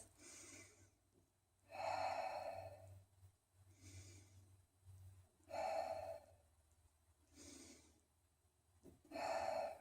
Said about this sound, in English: so we're only going to do 3 deep breaths on each side